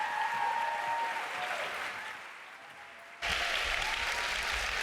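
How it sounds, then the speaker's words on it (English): Audience applause at a summit event, a dense wash of clapping from a crowd that fades slightly, then swells again abruptly and stays loud and sustained. "Give them a good round of applause."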